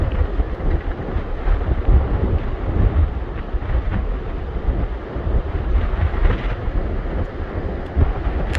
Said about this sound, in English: So windy, I don't know how anything stands.